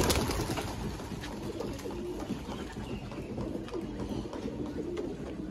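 Domestic pigeons cooing steadily on a rooftop loft, soft and fairly close, with faint background noise and no talk.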